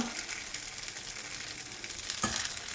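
Chempalli fish pieces drop into hot oil in a pan and set off a bright, continuous sizzle, close and fairly loud, with a brief sharper crackle near the end.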